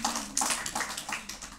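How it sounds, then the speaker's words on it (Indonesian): A church congregation claps together in quick, steady, fairly close rhythmic applause for a short burst, with no talking over it. "Tepuk tangan buat Tuhan kita."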